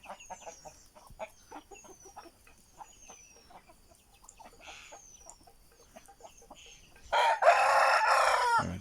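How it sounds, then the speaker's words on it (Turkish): Hens clucking in a yard while a dominant rooster named Jilet moves among them; scattered close clucks and chirps fill the first seconds before a loud, sustained crow bursts in near the end. "Tavuklarla uğraşıyor."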